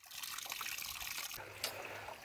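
Water trickles and splashes steadily at a mountain water point on the Churdhar trail as a container is filled, a soft, close, continuous flow lasting a couple of seconds.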